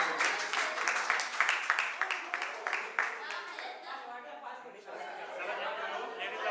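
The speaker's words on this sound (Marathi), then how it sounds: "ए टाळ्या टाळ्या टाळ्या" A small crowd of friends at a reunion get-together claps in a burst of rhythmic, fairly close applause lasting a few seconds, then it fades into relaxed chatter and light laughter.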